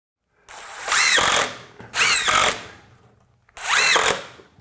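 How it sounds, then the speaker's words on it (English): A power drill drives coarse thread drywall screws into a 2x2 in basement framing, three loud close whirring bursts, each about a second long, separated by short pauses. "So get another 2x2 and just use some coarse thread drywall screws, screw it to the bottom."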